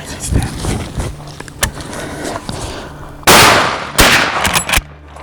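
Rifle shots ring out during a Cape buffalo hunt in Chewore South, Zimbabwe, with two loud close blasts near the end after rustling and movement noise.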